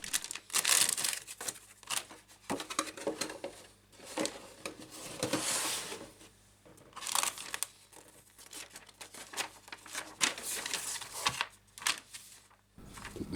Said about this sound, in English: So we'll just unpack, take out the screws and the instructions